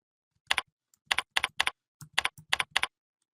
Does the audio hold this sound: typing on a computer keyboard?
yes